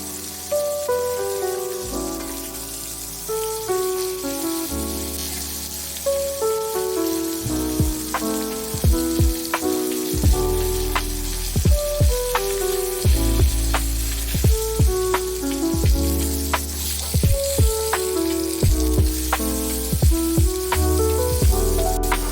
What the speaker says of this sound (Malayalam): ഈ പാനിൽ കൂടുതൽ മൂന്ന് മീനായും കൊണ്ട് മൂന്ന് മീൻ വെച്ച് ഇനി നല്ലോണം എണ്ണയിൽ രണ്ട് സൈഡും മുരിച്ചിട്ട്